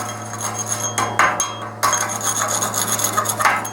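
A flux core weld on a metal workbench frame is scraped back by hand, giving repeated rasping, rubbing strokes with a few harder knocks, close and alone.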